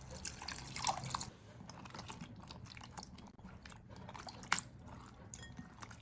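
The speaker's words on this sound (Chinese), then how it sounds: "接着继续换水，再把芹菜根部多冲洗几次" Water splashes and drips quietly as celery roots are rinsed in a bowl, with soft sloshing and small wet clicks close by. A brief burst of splashing comes at the start.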